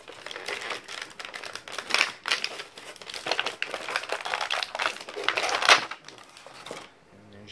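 A WWE action figure is pulled free of its plastic packaging with close, continuous crinkling and crackling of stiff plastic, busy and uneven for about six seconds before it stops.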